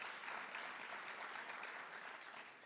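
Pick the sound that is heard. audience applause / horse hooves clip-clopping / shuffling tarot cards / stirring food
audience applause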